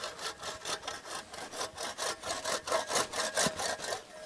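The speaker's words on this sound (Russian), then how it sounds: "Пила тупая, Эдик." A dull hand saw cutting a hole through river ice outdoors, rasping in a steady back-and-forth rhythm of about a dozen strokes, close and clear with no talking.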